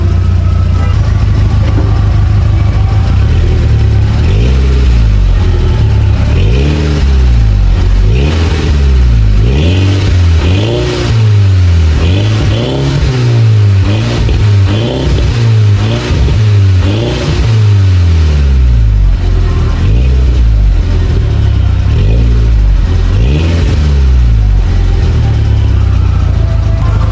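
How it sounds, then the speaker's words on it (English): A tuned car engine with a CPI tune sticker and a diesel-like tone is revved repeatedly. Loud rising and falling sweeps of the engine repeat close by over a constant idle rumble. "this car is warm enough, so I am able to give you guys a rev"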